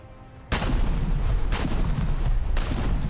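Heavy naval guns firing in War Thunder: three loud booms spaced about a second apart, each trailing into a sustained rumbling roar with no pause between them.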